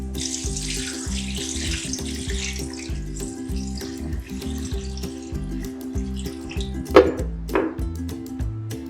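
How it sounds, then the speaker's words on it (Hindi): Water pours into a cooking pot holding goat trotters for a paya curry, a steady splashing stream heard close up under continuous background music. "फिर हम पानी डाल रहे हैं।"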